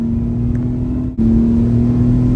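A Tata Tiago NRG CNG AMT car hums steadily at a near, even engine note, then its tone briefly dips and returns as the automatic gearbox downshifts, with no talking.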